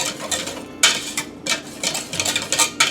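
Roux being stirred into cream or milk in a pan for béchamel: a utensil scrapes and clinks against the pan in irregular strokes, close and fairly loud, with no talking.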